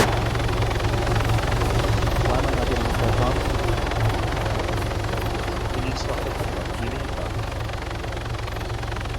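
A military helicopter in the ArmA 3 video game drones steadily, its rotor and engine roar filling the whole stretch with a constant low thrum.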